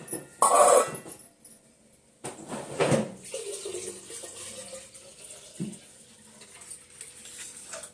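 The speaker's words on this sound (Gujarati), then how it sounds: "અહીં આગળ મમ્મી પાણી ભરવાનું હજુ કામ ચાલે છે" Water runs from a tap in a steady stream, with a louder gush near the start and household clatter in the background.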